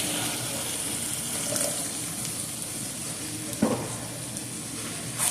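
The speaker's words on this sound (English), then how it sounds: "4 pounds of ragu sauce. So I'm just going to add that to the meat." Ragu sauce poured onto ground beef and Italian sage sausage in a pan, giving a steady low sizzle and wet bubbling with a brief splat partway through, no voices.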